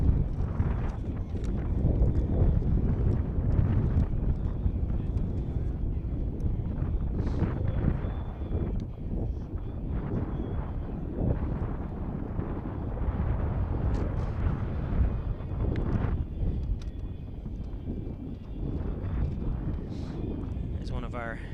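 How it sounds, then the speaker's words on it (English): Strong wind buffets the microphone at a varsity high school baseball game, a continuous low rumble that persists for the whole stretch. "Nice windy day here in the Maple City."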